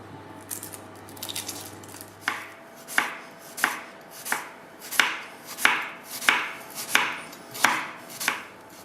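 A sharp knife chops through an onion on a board in about ten evenly spaced, crisp strikes, close and distinct over a quiet background, with a low hum at the start.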